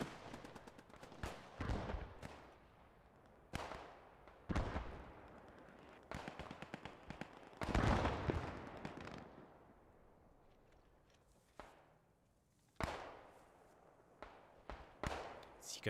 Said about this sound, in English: Mortars going out there.